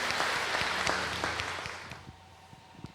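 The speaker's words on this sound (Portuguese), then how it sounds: "uma salva de palmas para todos nós que estivemos aqui esta noite" Applause at an evening archdiocese seminar in Curitiba, a fairly quiet patter of scattered claps that thins out and fades to a few isolated claps.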